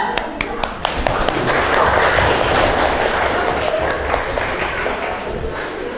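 Students in a classroom clap for group 1, a dense burst of close applause that stays steady for several seconds, with some voices mixed in.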